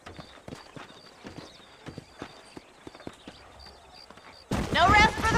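Horse hooves clip-clop at a steady trotting rhythm in the Western video game Red Dead Redemption, close and clear, before a sudden loud burst of noise cuts in at the end.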